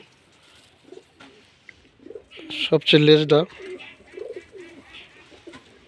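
Red-tailed pigeons coo in short, soft phrases, one louder burst in the middle, while someone talks over them nearby.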